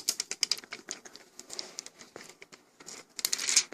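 Protective plastic film peeled off a Samsung Galaxy Note 2 replacement battery door, close, quiet crackling and crinkling in short irregular bursts, louder toward the end.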